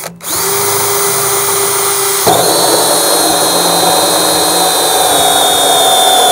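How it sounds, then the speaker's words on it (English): A power drill whines steadily as it bores through a plastic barrel, its pitch jumping slightly partway through, then holding a loud, even buzz. "just drill an opening in the barrel for the bulkhead fitting"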